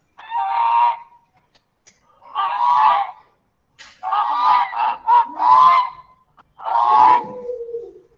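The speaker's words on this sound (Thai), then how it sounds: "goose," A goose honks in several separate calls, loud and close, with short silent gaps between the nasal honks.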